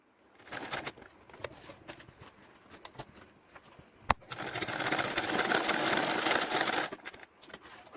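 A sewing machine stitches fabric lining, with a few short bursts and rustling handling of the cloth, then a steady, louder run of stitching that stops abruptly near the end.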